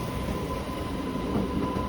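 A passenger train on the Bagalkote to Bengaluru route rumbles in a steady, low, continuous drone with a faint tonal hum riding above it.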